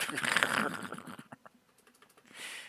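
A cat walks across a computer keyboard, soft patter of key presses in a quick burst at first, then scattered taps, with faint breathing and a brief rustle near the end; no one speaks during it.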